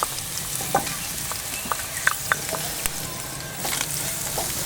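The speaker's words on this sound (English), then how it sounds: "Add another tablespoon of oil to the pan, followed by the onions and garlic." Onions and garlic frying in oil in a pan on a Weber Q grill, giving a continuous close sizzle with occasional small pops and crackles and no speech.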